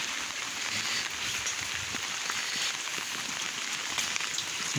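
Steady, dense rain falls on a village, a continuous even patter that holds without a break and without any voices.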